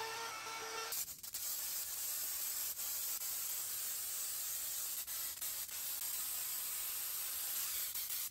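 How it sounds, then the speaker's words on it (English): Raptor liner bed coating being sprayed on a Cushman Hauler Pro utility golf cart, a continuous airy hiss from the spray gun that runs steadily with brief breaks, fairly faint and with no voices. "All right, got the Raptor liner sprayed"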